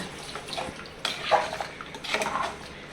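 Ground-spice wash water being poured into a pot of mutton kurma in a home kitchen, with splashing pours in short bursts and a few light clinks nearby.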